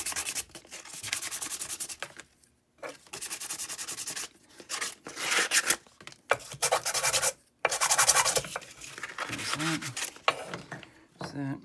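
Rough abrasive rubbing on a PVC surface with steel wool or sandpaper, coming in repeated close scrubbing bursts broken by short pauses.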